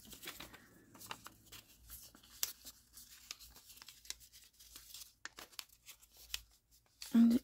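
Paper being folded and creased for craft clusters: soft crinkles, rustles and sharp little creasing snaps scattered at close range, fairly quiet, with one louder rustle near the end.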